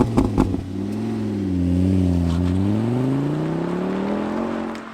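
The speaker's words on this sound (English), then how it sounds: "This car does sound good, don't get me wrong." A Volvo C30 with aftermarket exhaust parts, including downpipe and mid-pipe, accelerates with a smooth rising engine note, heard close and loud with no talking.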